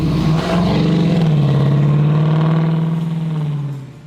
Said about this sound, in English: I'm ready to take this 68 Camaro out on the road